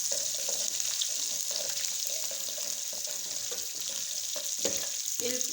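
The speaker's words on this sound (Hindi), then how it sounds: "इसको हल्का सा फ्राई करते हैं।" Cumin seeds and ginger-garlic paste frying in hot ghee give a steady, faint sizzle with occasional stirring clinks and scrapes, heard on its own.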